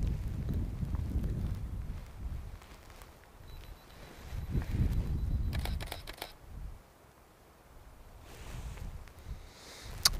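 A camera shutter fires while photographing an autumn landscape of colourful trees in Acadia National Park, a soft click amid gusting wind noise outdoors, with a couple of faint clicks late on.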